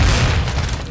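A flashbang grenade going off in Call of Duty: Modern Warfare II, a single loud, close boom that fills the moment with no talking.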